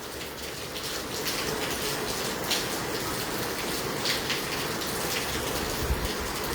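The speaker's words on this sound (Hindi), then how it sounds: "हिसार और हिसार के आसपास लगते क्षेत्रों में तेज़ बरसात है" Heavy rain falling in Hisar, a dense steady hiss of downpour with scattered spatter on surfaces, constant and fairly close, with no voices.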